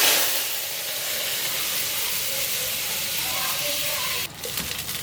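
Water is poured into a hot pan of mustard seed, cumin and chilli tempering for a Marathi patodyachi amti, giving a loud steady sizzle and steamy hiss that drops and turns crackly near the end.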